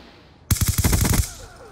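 Rapid automatic fire from a PDW in Black Ops 2 erupts as one loud, close burst of about ten tightly spaced shots lasting under a second, then drops away to quiet.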